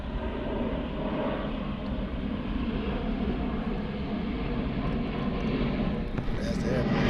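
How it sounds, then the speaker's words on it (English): An airplane passing overhead, a steady broad engine roar that holds throughout, with someone talking over it. "That's the airplane."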